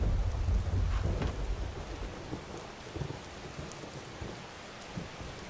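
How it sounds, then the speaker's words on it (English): Steady rain in Skyrim patters all around with a low rumble of thunder at the start, the downpour continuing evenly without any voices. "More rain."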